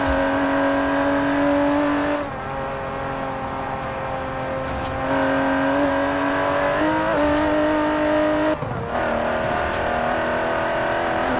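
Aston Martin DB11 with a 5.2-litre twin-turbo V12 in Forza Horizon 4, droning loudly and steadily with rising and falling revs through several gear shifts, up close and with no talk over it.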